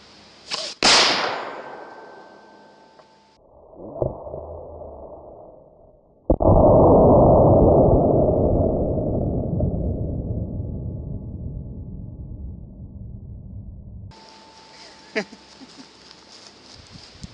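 A one-gram explosive blow gun dart goes off on impact with a sharp, loud crack, followed by a long rumbling roar that slowly fades, with quieter handling noises before and a thin whine afterward.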